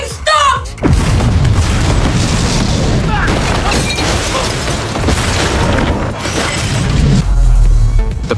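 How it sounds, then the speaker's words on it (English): A powerful explosion after a fuse countdown in a narrated film: a heavy boom opens, followed by a long, dense roar of rumbling debris and crackling that stays loud throughout, with a fresh low surge near the end. "The powerful explosion blanketed the entire area in thick smoke."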